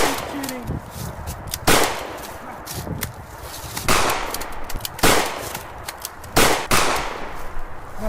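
Video game gunfire in a hunting-themed shooter: sharp bursts and single shots come in irregular bursts at moderate loudness, mixed with clatter and brief voices of players talking.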